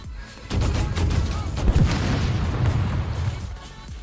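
Rapid autocannon fire from an XM800 light tank in the War Thunder video game: a dense run of loud, overlapping booming shots that begins after half a second and carries on with little pause through the rest of the clip.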